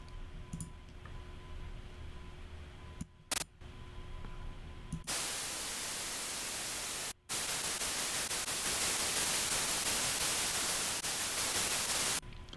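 Hissy static with clicks gives way to loud, bright, treble-heavy noise that rushes on steadily with one brief dropout.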